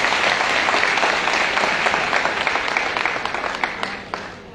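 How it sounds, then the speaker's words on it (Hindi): Enthusiastic audience applause fills a hall at a women's pension rights convention in Lucknow, steady dense clapping from a large crowd that tapers off slightly toward the end, with no talk over it. "एक बार कृषि भवन के लिए जोरदार ताली"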